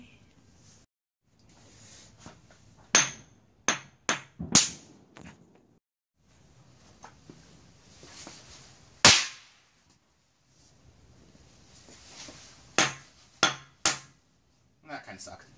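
Homemade fireworks set off for New Year's: a string of sharp, loud cracks and pops, some single and some in quick clusters, with quiet gaps and faint voices between them.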